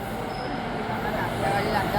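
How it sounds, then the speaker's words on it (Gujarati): A metro train pulls into a station in Surat, giving a steady, loud rumble of wheels and carriages that continues throughout, with people talking around it. "મેટ્રો ટ્રેન આવી ગઈ છે."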